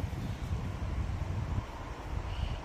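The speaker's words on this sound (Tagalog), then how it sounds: "Lumakas ang hangin guys." Steady, heavy wind rushes and buffets the microphone beside the Hutt River in Lower Hutt, New Zealand, a continuous low roar with no pause.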